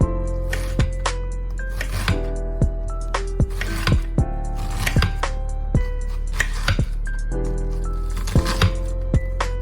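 A kitchen knife chops through food on a cutting board in a steady run of sharp, close knocks, about two per second, with the piece rotated between cuts.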